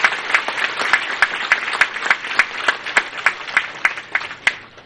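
Crowd at a public ceremony in Tanauan, Leyte claps together, a sustained wash of applause punctuated by sharp, regularly spaced loud claps standing out near the microphone.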